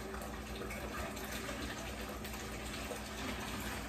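Home-made wine poured in a steady, quiet liquid stream, continuous and even throughout with no talk over it.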